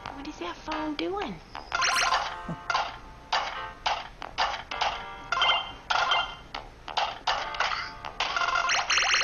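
A phone rings in repeated electronic bursts, fairly loud and close, with short gaps between rings across the whole stretch and no talking over it.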